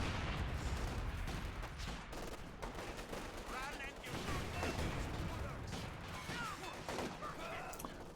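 A volley from a PTRS anti-tank rifle squad in Company of Heroes 2 hits an anti-tank gun during a tank battle. Dense, continuous gunfire and impacts fill the whole stretch, with a commentator talking over them.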